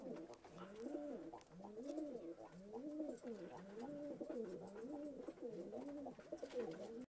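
Domestic pigeons kept at a home in Vellore coo continuously, their soft rolling calls repeating in a steady rhythm, close by and fairly quiet, with no talking.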